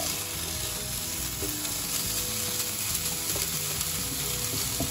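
Maultaschen and bacon fry together in a pan, producing a loud, continuous sizzling crackle that holds steady throughout with no talking.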